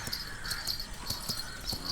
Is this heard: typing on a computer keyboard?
no